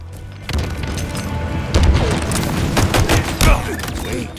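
Gunfire in Halo Infinite arrives as loud, rapid bursts and heavy thuds over a busy soundtrack, with a game announcer voice speaking briefly.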